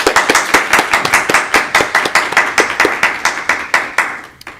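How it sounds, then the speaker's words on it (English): Applause after a speech at an International Women's Day breakfast in Adelaide, a few pairs of hands clapping in quick, regular claps, close and distinct, tapering off at the end. "take a minute and applaud her around Adelaide, around Australia"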